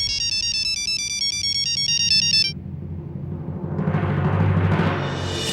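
A phone ringtone plays a bright, repeating electronic melody for a couple of seconds, then stops, followed by a burst of muffled noise.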